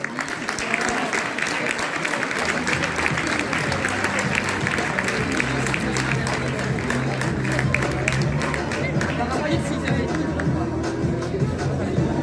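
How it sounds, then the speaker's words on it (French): An audience at a graduation ceremony applauds loudly and continuously, many hands clapping at once amid crowd chatter and a few voices. "merci d'applaudir très fort la major de cette promotion, Lisa Coyo."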